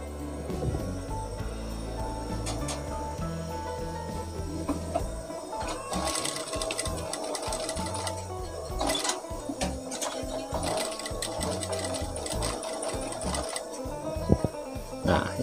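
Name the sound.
sewing machine stitching a mini suit collar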